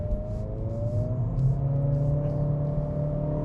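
A 2025 Acura ADX A-Spec with a 1.5-liter turbo engine and all-wheel drive accelerates onto a highway in normal mode, heard from inside as a steady engine drone and rising whine under road noise.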